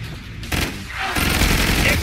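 Gunfire from the video game Killing Floor 2, a loud rapid burst of shots that swells into a dense, continuous fusillade of automatic fire in the second half, up close and unbroken.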